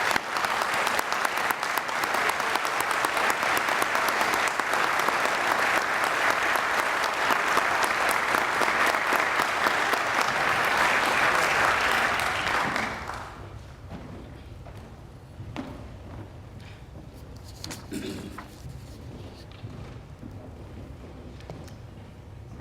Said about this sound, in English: Let's have a warm round of applause for our amazing honorary initiates.